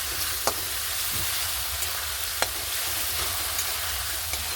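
Spice paste for green banana kofta fries in a pan with a steady, close sizzle, and a few sharp scrapes from stirring break through now and then. No one speaks.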